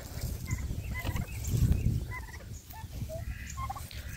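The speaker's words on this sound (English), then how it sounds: "Now some turkey footage." Farm turkeys gobble in scattered bursts at moderate distance, a busy flock chorus swelling in the middle and trailing off, with no talking.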